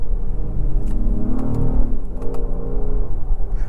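A 2024 Acura MDX Type S Advanced with its V6 engine accelerates under paddle shifting, heard from inside the cabin as a low, rising engine rumble and whir with brief shift breaks.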